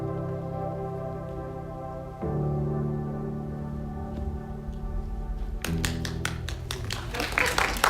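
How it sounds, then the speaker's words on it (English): An audience claps at a product launch event, a burst of scattered applause rising over a sustained musical tone and growing denser toward the end. "Thank you for the round of applause."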